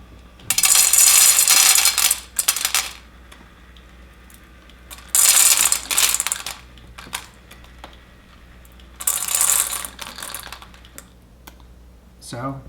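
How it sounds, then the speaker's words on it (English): A PetSafe automatic pet feeder dispenses dry kibble in three bursts of rattling and clattering pellets. Each burst lasts about two seconds and is separated by quieter stretches with a faint motor hum and small mechanical clicks. "it will dispense the set amount of food that you've set it for automatically here"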